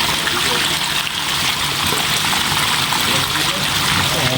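Water gushes steadily out of a septic tank (puso negro) being dug at a commercial building construction site, a continuous close rushing flow that stays loud and even throughout.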